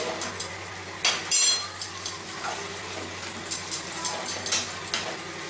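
A utensil stirs and taps in a pan of restaurant-style chilli chicken just splashed with vinegar, giving irregular metallic clinks and scrapes over a low steady sizzle, close and moderately loud.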